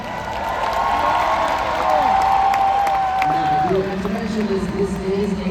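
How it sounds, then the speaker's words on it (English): A circus audience in Nashville applauds and cheers in a dense, continuous crowd roar, with a voice and sustained musical tones over it. "please give him a big round of applause."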